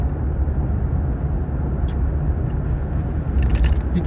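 A car cruising steadily along an open Canadian highway with no traffic, a continuous low road and engine rumble holding at an even level throughout, no voices present.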